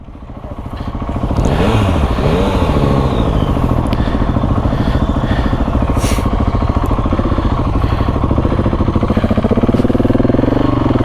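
KTM 690 SMC supermoto motorcycle being ridden, its single-cylinder engine loud and close, pulling through rising and falling revs with a constant throbbing drone.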